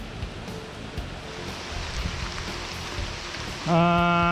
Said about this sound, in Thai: ฝน เริ่มหนักขึ้นทุกที